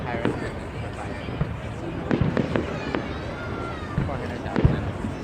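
A December fireworks show in Sacramento bursts with sharp booms and crackling pops at irregular intervals, some close and loud, others softer and farther off, while people talk and a crowd murmurs beneath.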